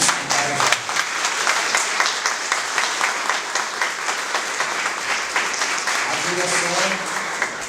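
Applause from a packed union-hall audience fills the room with dense, steady clapping throughout, and a voice cuts in briefly near the start and again near the end.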